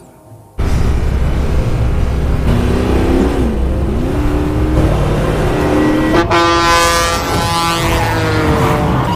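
A truck nearly runs a woman over in a film scene. A loud engine roar bursts in after a short quiet start, with a sustained horn-like blare and a rising tone, and no talk.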